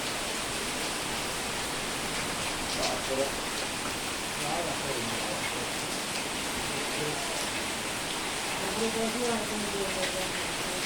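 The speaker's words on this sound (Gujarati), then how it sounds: "આજે વરસાદ આવી ગયો છે" Heavy night rain pours steadily on the first day of June, a dense continuous hiss of falling water with constant intensity, while muffled voices talk quietly beneath it.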